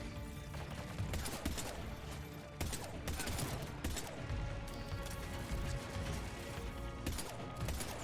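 A strong pistol fires repeatedly in a Mass Effect 3 firefight. Loud, sharp shots and bursts land over a dense, busy backdrop of combat clatter and mechanical noise.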